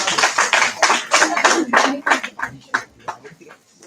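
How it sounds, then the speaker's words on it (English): Audience at an international college conference breaking into a brief round of applause, loud, close and dense, fading after a few seconds. "Round of applause."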